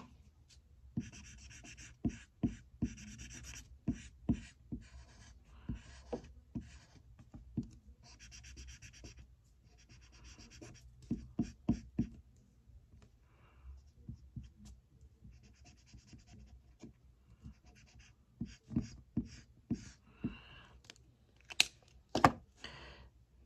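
Someone colors thin paper strips yellow for a toilet paper roll angel's hair, with quiet, close, repeated scratchy strokes of a coloring tool on paper coming in bursts and short pauses, with no talking.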